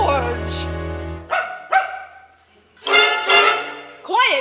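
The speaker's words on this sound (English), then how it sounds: "And he had a dog named George." A dog barks several times in short, loud bursts close by, with gaps between barks, during a live concert storytelling performance.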